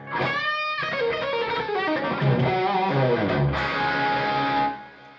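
A Chapman electric guitar played through heavy distortion rings out in sustained chords and bending lead notes, loud and close with effects-laden tone, continuous for about five seconds before cutting off.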